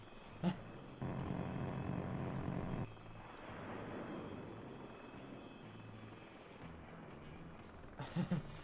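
The engine and rotor of a Mi-24 helicopter drone in the video game Heliborne, with its hydraulics shot. It is a steady, fairly faint hum, with short bursts of voice near the start and end.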